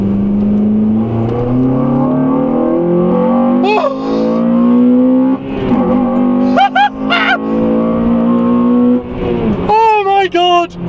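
A Honda Civic Type R fitted with an HKS intake revs hard through second gear, its engine note climbing steadily into VTEC with a loud, rising intake howl from inside the car, with brief excited voices near the end.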